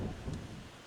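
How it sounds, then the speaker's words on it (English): Thunder rumbles low and deep over heavy rain during an outdoor football match, a brief muffled roll fading within a second over a faint wash of falling rain. "Rain's starting to come down heavily now."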